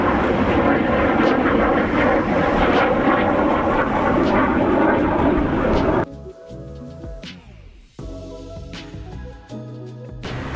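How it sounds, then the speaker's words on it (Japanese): A loud military propeller aircraft roars close overhead for several seconds, then the engine drone falls and fades as it passes, leaving tonal humming behind. "今ね、軍の飛行機が飛んできたんですけれども"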